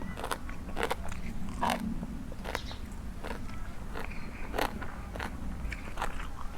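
Crispy food bitten and crunched while eating a meal of frog nam phrik with blanched vegetables and moringa shoots, close-up irregular crunches and crackles over a low background hum, with no talking.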